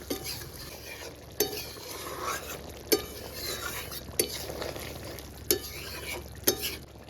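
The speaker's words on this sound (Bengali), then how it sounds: "সঙ্গে যে আমরা মশলাটা বেটে রেখেছিলাম না, সেই বাটা মশলাটা দিয়ে ভালো করে মিশিয়ে ব্যাস নামিয়ে নিলেই রেডি" Chicken curry with slit green chilies and ground spice paste being stirred in a pan, a steady frying sizzle under repeated scrapes and clinks of a spoon against the pot, close and fairly loud.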